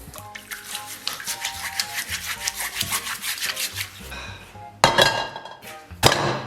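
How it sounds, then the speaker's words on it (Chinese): A burnt pot being scrubbed hard with a steel wool pad, with rapid rhythmic scraping and rubbing strokes close to the microphone, then a pause and a few sharp metallic clanks and knocks near the end. "咱们把烧焦的部分给它拿钢丝球刷洗干净"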